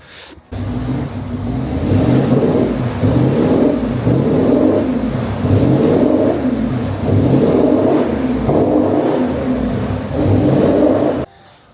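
A Range Rover L320 TDV8 diesel engine with a basic X-pipe and resonator delete revs hard and holds at high revs with a deep, throaty roar, close by, fluctuating slightly before cutting off abruptly.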